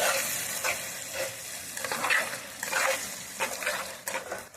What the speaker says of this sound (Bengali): এখন একটু ভেজে নিতে হবে